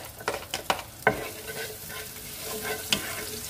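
Garlic and then onion hit hot oil in a pan for fried bangus, giving a steady close sizzle with several sharp stirring clatters near the start and one more near the end.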